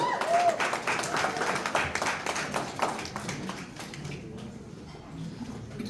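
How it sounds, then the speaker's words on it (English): Comedy club audience applauding as a comedian takes the stage at a New Year's Eve show, a dense burst of clapping that thins out, with cheers and voices mixed in. "Watch our quick clapping."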